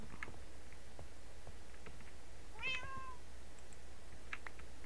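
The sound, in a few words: cat meowing in the video game Minecraft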